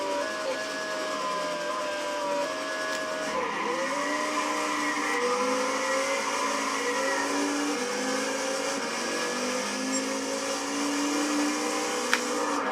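A Pontiac GTO 5.7 Coupe in Gran Turismo 6 drag races, its engine note climbing steadily through the gears in a continuous loud whine with tire spin, no talking.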